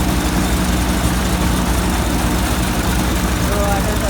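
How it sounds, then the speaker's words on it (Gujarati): A Mithi 241 tractor engine runs in a farm village setting, a low continuous rumbling drone held steady and fairly loud from start to finish. "મીઠી ટ્રેક્ટર છે, મીઠી 241"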